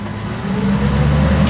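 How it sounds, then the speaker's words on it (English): Car with a JB-welded differential revving under light throttle, a loud close engine drone that rises steadily in pitch over a second and a half, no talk. "give it a little bit of throttle"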